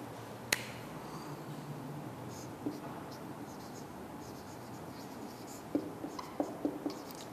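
Pen or chalk writing out equations in matrix form during a Class 9 maths lesson on Cramer's rule, heard as faint, steady scratching with a few sharp taps from the writing tool. Quiet room, no talk.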